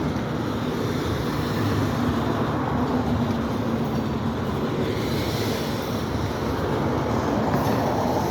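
A Norfolk Southern freight train rolls past on the Delair Bridge, a steady, loud, continuous rumble with rattling cars and faint wheel noise throughout, no talking.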